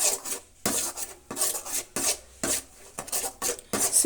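Jaggery frying in tamarind juice in a pan over a low flame, stirred with a utensil in repeated rasping, scraping strokes at a steady rhythm, close and fairly loud with no talk.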